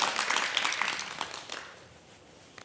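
A lecture hall audience claps to welcome a respiratory medicine professor before a talk on tuberculosis; dense applause fills the opening seconds, then thins out and fades toward the end.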